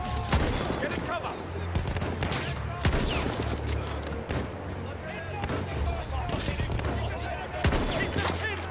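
Dense gunfire in the Battlefield 1 video game, with rapid machine-gun bursts and heavy blasts rolling almost without pause, loud and close, with shouted voices mixed in.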